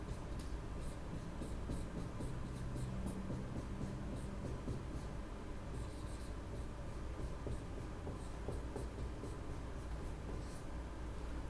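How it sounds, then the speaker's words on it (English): Marker or chalk writing on a board in a classroom makes faint, close scratchy strokes in short bursts over a low steady background hum. "I'll write them down."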